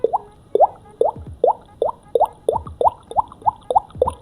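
A beatboxer's voice imitates a water drop, producing about eleven crisp, evenly spaced plopping drips in a quick regular rhythm, close and clear with no other sound.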